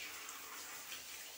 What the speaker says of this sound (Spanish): Lo rocío con agua.